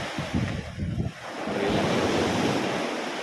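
Strong sea waves surge and wash ashore on a stormy, debris-filled coast, with heavy wind buffeting the microphone, a rumbling roar building into a steady rushing hiss.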